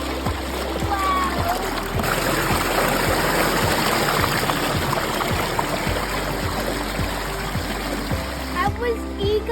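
Water flowing and splashing steadily in a natural countryside pool, a close, continuous rushing wash with intermittent splashes throughout.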